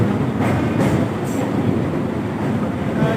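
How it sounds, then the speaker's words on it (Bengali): From inside a moving passenger train, a steady low rumble of wheels and carriage fills the air, with a few brief rattling bursts early on. No speech. "আর আসার সময়ও ট্রেনে করেই ফিরছি"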